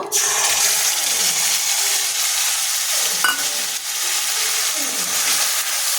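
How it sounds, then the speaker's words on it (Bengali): A ground spice paste of ginger, coriander, turmeric, chili and a little yogurt is added to hot oil in a pan for a banana-flower fritter curry, giving a close, steady sizzle with wet stirring scrapes. "এইবার বাটা মশলাগুলো দিয়ে দেব"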